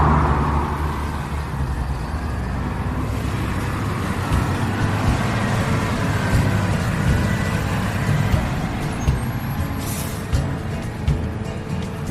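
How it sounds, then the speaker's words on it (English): A couple of tractors, a 40-foot articulated lorry and a van passing on a road, a continuous loud rumble of engines and tyres swelling and fading as they go by. "So there's a couple of tractors. That's a 40-foot articulated lorry and a van behind it."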